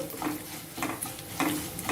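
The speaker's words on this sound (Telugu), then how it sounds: "ఇప్పుడు మనం ఈ పోపుని ఆ సాంబార్లో వేసేసుకోవాలి" Hot oil tempering with asafoetida hisses and spatters in short bursts as it is stirred into a pot of sambar, with a few louder sizzling surges.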